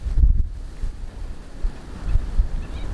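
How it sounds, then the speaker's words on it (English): Strong wind whips across a microphone near a bay, a loud, close, rumbling buffet that gusts and swells unevenly throughout, with no voices. "That wind is absolutely whipping through here right now."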